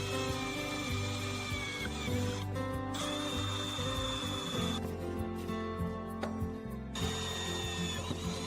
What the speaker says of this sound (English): We start by pre-drilling all the holes with a smaller drill,